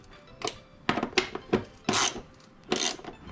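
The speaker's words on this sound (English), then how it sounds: "I will just snug them down a little bit with my ratchet" A ratchet snugs down bolts on the passenger foot peg mount of a 2021 Suzuki DRZ400SM. It makes several separate rasping bursts of metallic clicks, close and moderately loud, with short pauses between the turns.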